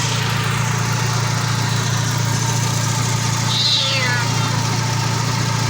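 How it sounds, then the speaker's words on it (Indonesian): A cat meows once over the steady loud idle of a 1997 Suzuki Baleno engine during an engine flush, the short call partly masked by the running motor. "Wah, ada kucing teman-teman."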